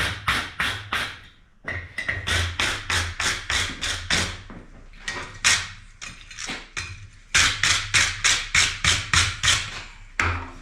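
Hammer on hot steel during forge welding of a thrust washer for a blacksmith's post vise: bursts of rapid, ringing, evenly spaced taps, loud and close, broken by short pauses, with no talking.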